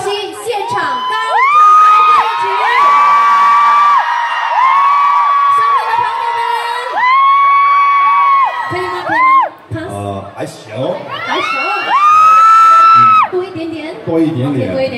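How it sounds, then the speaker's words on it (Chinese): At a crowded fan event in a Singapore mall, a large audience screams and cheers loudly in sustained, high-pitched waves that briefly dip and then surge again. "所以一直要尖叫，一直要尖叫"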